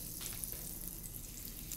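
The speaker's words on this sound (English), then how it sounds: "You'll see it start to sizzle." Butter sizzles in a hot skillet while it melts for a puffed pear pancake, a steady close crackling hiss with no talk over it.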